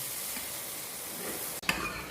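A tadka of tomato fries in a pan for pumpkin and chana dal, making a soft, even sizzling hiss throughout, broken once by a brief dip and a small clink.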